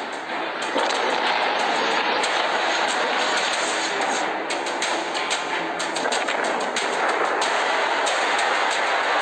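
A large gas station explosion, its fire spreading onto the building beside it, heard as a continuous loud broadband roar with repeated sharp crackling bursts and booms throughout.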